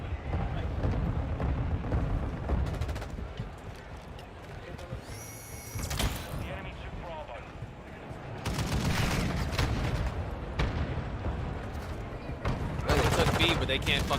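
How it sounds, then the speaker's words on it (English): Sniper rifle fire in Call of Duty: Modern Warfare ground war, with loud sharp broadband shots punctuating continuous game noise and someone talking throughout. "I gotta pull out a sniper."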